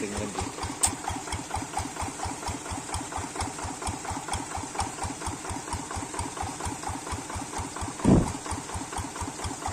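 A truck's diesel engine runs steadily at idle with an even, close chugging rhythm throughout, briefly broken by a louder low thump near the end.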